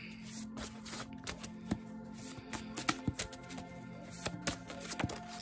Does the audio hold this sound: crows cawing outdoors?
no